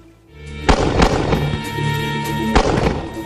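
Heavy artillery fire, with several loud booming blasts and sharp cracks close together, each trailing into a dense rumbling roar.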